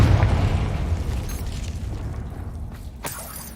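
A Confringo spell explodes in Hogwarts Legacy: a single loud boom that rumbles and slowly fades, with a faint sharp crack near the end.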